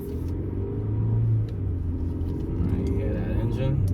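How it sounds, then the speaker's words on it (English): A 2021 Mercedes GLE 350 engine pulls in sport mode with a steady low, rumbling drone that swells briefly, heard from inside the cabin with no talk over it. "you hear that engine?"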